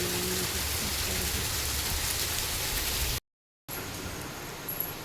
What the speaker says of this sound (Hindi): देखो पूरी जोरदार बारिश भाई, गली का पूरा बुरा हाल हो रखा है